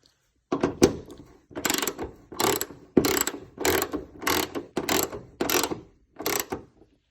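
A hand ratchet works loose a snug 12 mm bolt on a Toyota Camry hood strut mount, giving about eight separate bursts of rapid clicking close to the mic, each around half a second long, with short pauses between them and no voices.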